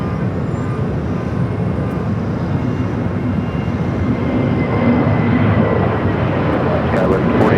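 An airliner comes in to land on runway 25 left at Los Angeles International Airport, a loud, continuous broadband engine roar that swells gradually, heard from nearby with no talk in the foreground.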